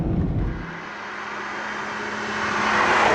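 Ferrari 12Cilindri Spider with an 830 hp V12 engine, a steady loud drone from the cockpit that swells gradually as the revs rise, with no voices.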